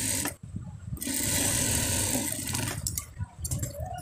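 A sewing machine stitches a four-year-old child's kabli panjabi, running in loud close bursts of whirring that stop briefly early on and again near the end before starting up again; no voices.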